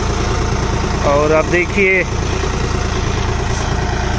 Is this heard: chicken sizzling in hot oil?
no